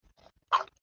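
A dog begging for food gives a single short bark after a faint whimper, close by and alone, with no talking.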